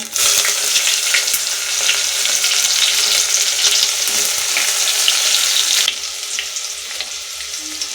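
Whole spices and curry leaves sizzling in hot oil: a loud, dense, continuous crackling hiss that drops noticeably in strength partway through and then carries on more softly.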